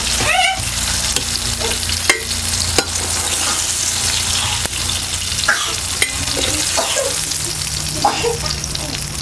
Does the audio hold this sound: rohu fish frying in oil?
yes